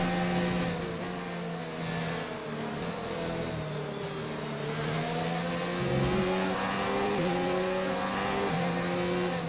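A Formula 1 car engine in the F1 2019 racing game whines continuously at high revs, its pitch stepping up through gear changes with brief dips on downshifts, loud and steady with no talk.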